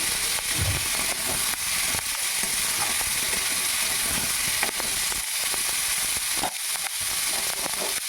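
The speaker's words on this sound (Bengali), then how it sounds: "এবারে আমলকিগুলো দিয়ে দিলাম একটু অল্প একটু ভেজে নেবো বেশি ভাজবো না" Amla (Indian gooseberries) frying briefly in hot oil in a kadai for pickle, a continuous soft hiss and sizzle with occasional stirring knocks.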